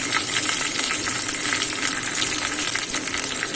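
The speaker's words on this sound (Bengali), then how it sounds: "তেল গরম হয়ে গেলে মিডিয়াম আঁচে রেখে আমি এখানে তেজপাতা আর 2টো চেরা শুকনো লঙ্কা দিয়ে দিলাম।" Bay leaves and two split dried red chillies sizzle in hot mustard oil over medium heat, a loud, steady, close crackling fry with no voices.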